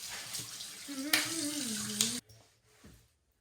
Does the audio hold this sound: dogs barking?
no